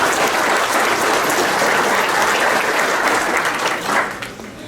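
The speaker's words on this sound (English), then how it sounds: "If you could give us a round of applause for those who could not make it here." Applause from a banquet audience at a softball hall of fame dinner, a dense, steady clapping that fills the room, then thins and fades near the end.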